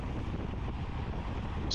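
Wind rushes steadily across the microphone of a road cyclist during a race in Saint-Leu, Réunion, a loud continuous buffeting roar with no voices.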